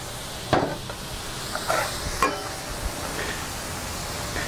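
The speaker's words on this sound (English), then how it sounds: "We put those rehydrated onions on the griddle." Rehydrated onions sizzling on a hot griddle, a soft continuous hiss broken by a few sharp scraping clicks of a metal tool against the flat-top surface, with no talk.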